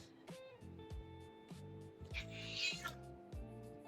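A black cat meows repeatedly indoors, a series of close, drawn-out cries in an uneven rhythm, with one louder, harsher wail partway through.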